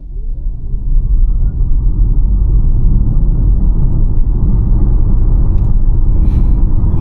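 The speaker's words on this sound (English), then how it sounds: "let's maybe test the sport acceleration just around this corner." Inside a Kia EV5 Earth 2WD electric car accelerating in sport mode, a loud, steady low road-and-tyre rumble builds in the first second, with a faint rising electric whine, no talk.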